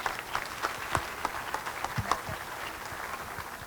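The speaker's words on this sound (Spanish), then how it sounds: "Un fuerte aplauso para Samantha" Applause from an audience at a peace dialogue panel during a national gathering in Mexico: a sustained wash of many hands clapping at moderate distance, steady and fairly soft throughout.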